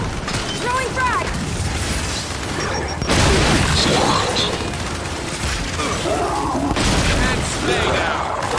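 A frag grenade goes off in the shooter game Gears 5, with booming blasts and rumbling gunfire-like bursts layered under loud game effects and a player talking throughout.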